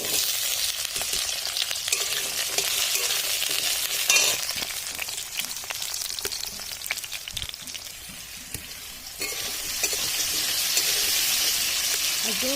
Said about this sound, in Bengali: এবার আমি আলু কটা এর মধ্যে দিয়ে ভেজে নেব।